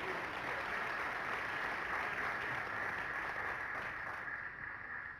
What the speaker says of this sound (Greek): Να της ευχηθούμε με ένα θερμό χειροκρότημα όλη καλή επιτυχία.